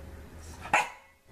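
A bulldog puppy lets out a single short, sharp bark close up indoors, rising from a quiet room murmur and fading quickly afterward.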